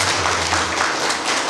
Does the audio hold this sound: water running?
no